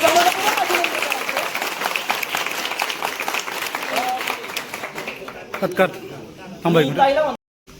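An audience claps at a dhol-tasha drum troupe's practice ceremony in Bhor: dense, loud applause that gradually thins and fades, with a voice speaking over it and a brief burst near the end.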